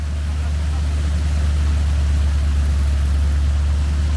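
A vehicle engine drones in an off-road convoy, a loud, steady low rumble held close throughout with no clear revs or breaks.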